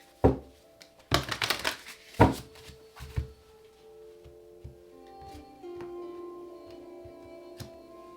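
Tarot cards are shuffled in a few loud riffling bursts at the start, followed by quieter taps and clicks as the deck is squared, close by with a faint tonal hum in the background and no talking.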